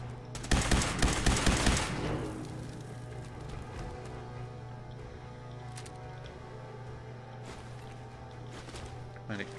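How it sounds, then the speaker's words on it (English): Automatic pistol in a video game fires a rapid burst of loud shots for about two seconds, followed by quieter ambient game noise with a low hum and occasional faint clicks. "Automatic pistol,"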